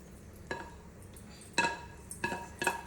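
Paruppu usili, a South Indian dal-and-vegetable stir-fry, being spooned into a bowl, with a few separate clinks and scrapes of a utensil on the dish, spaced irregularly in a quiet kitchen.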